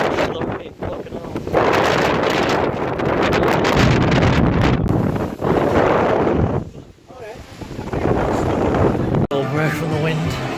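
Strong outdoor wind buffets the microphone almost continuously, roaring loud and close with brief lulls, and a voice is heard faintly under the gusts.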